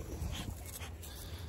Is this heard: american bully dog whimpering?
yes